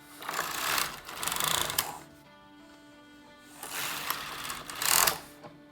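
A knitting machine runs a round of sock rib in fine weight-2 yarn, set to round knitting at stitch size 3, giving two clattering mechanical passes separated by a short quiet pause, close and fairly loud.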